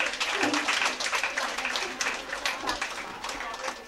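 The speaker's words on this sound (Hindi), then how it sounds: "इनके लिए ज़ोरदार तालियां बजाइए।" An audience at an International Women's Day felicitation and prize distribution program applauds steadily, a dense wash of clapping that holds for several seconds with a voice faintly underneath.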